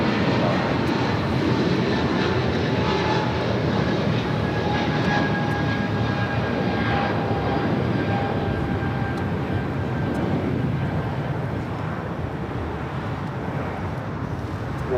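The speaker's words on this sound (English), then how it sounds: "Looks like ANA possibly going to the north side for a takeoff" An ANA airliner at LAX taxiing toward the runway for takeoff, its jet engines producing a continuous loud roar and whine that stays steady throughout, heard from a distance on the airfield without clear talk.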